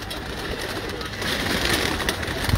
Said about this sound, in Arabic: شوف هذا الطير ضخم